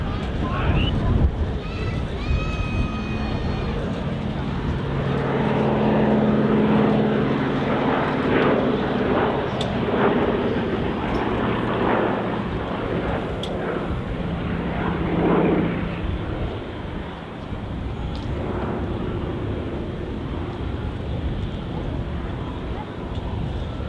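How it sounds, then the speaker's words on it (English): A Fairey Swordfish biplane flies at the RAF Cosford air show, its radial engine droning steadily at a distance under wind noise, with a commentator talking over it. "Pretty long flight for the Swordfish today, operating from its base at Yeovilton in Somerset."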